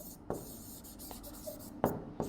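Marker or chalk strokes on a board as a statement is written out during a coordinate geometry math lesson: a few sharp, scratchy strokes with quieter rubbing between them, close, with no talk.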